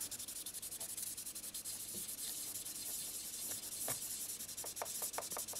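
Fine sandpaper rubbing across the body of a 1/24 Ebbro Citroen DS 19 plastic model kit, a soft continuous scratchy hiss with faint taps near the end, close and steady.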